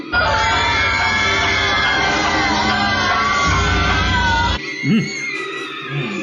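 Record featuring mental patients screaming: a dense wall of loud, overlapping wailing and shrieking voices over a steady low drone for about four and a half seconds, then a sudden drop to quieter scattered sounds.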